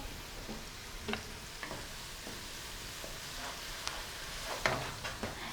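Garlic and green chilies frying in oil in a karahi, giving a steady soft sizzle with occasional light stirring clicks and taps, fairly quiet and close, with no talking.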